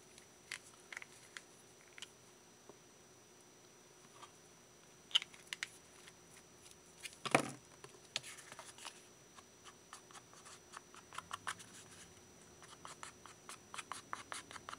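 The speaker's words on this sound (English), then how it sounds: "we're going to go ahead and put a little bit of the gilding wax on there" Gilding wax rubbed by hand onto die-cut paper for a pocket craft: faint, close scratchy scuffs and light ticks in irregular bursts, with one louder rustle midway, no talk.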